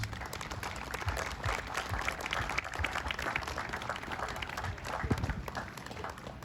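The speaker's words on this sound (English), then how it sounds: "A round of applause, please, for those families." A crowd applauds steadily at a volunteer fire department's 125th anniversary ceremony, dense overlapping claps at moderate volume continuing throughout.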